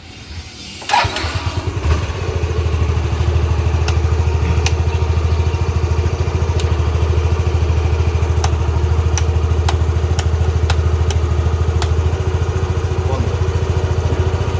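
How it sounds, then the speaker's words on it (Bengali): A Yamaha Fascino BS4 scooter engine cranks and catches, then settles into a steady, loud idle with a fast even putter, occasional faint clicks sounding above it. "আমি আবার স্টার্ট করে দেখিয়ে দিই"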